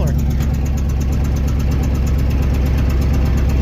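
Engine on an old farm stand idling with a muffler fitted, a steady, loud mid-low rumble with a slight knocking throb running throughout, close by and continuous.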